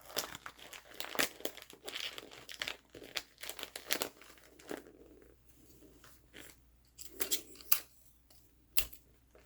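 Wrapping paper crinkles and rustles as it is folded up around a gift, soft close crumpling with bursts of crisp creasing and quiet gaps between them.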